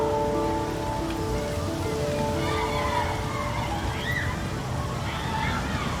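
Steady rain hisses and splashes in a Heavy Rain game scene as a continuous wash of noise, with faint voices talking and low tones underneath.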